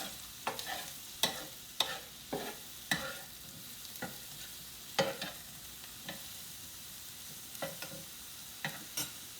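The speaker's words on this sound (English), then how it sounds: "I'm still over here cooking that second batch, so I'll give it a quick turn." Spam stir fry with teriyaki sauce being turned in a hot pan with tongs: a soft continuous sizzle punctuated by a dozen sharp metallic clicks and scrapes at irregular intervals, close up with no talking.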